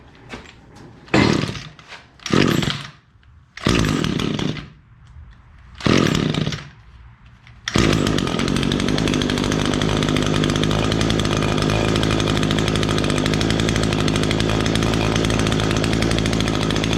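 Equipment engine after maintenance, likely a chainsaw: several pull-start tugs, each a short sputtering burst, then it fires at about eight seconds and runs loud and steady, close by.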